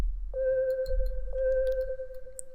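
Dry synth one-shot sample playing a pure, steady held tone that retriggers once partway through, close and clean over a faint low rumble, no voices.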